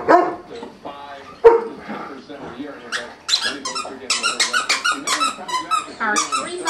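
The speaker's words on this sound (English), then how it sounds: "Oh, little puppy." A puppy yips and squeaks in a rapid run of high, excited little barks, with people talking and laughing underneath.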